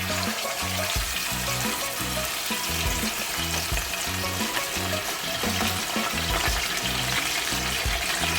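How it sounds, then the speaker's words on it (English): Escovitch fish frying in hot oil, a loud, dense and continuous crackling sizzle up close that holds steady throughout without any talk. "I'm going to go ahead and fry the other fish"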